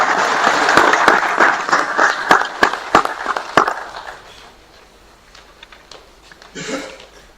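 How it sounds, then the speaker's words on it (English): An audience at an academic economic history event applauds loudly at first, then the clapping thins to a few sharp, scattered claps and fades to quiet. "Let's give him a round of applause"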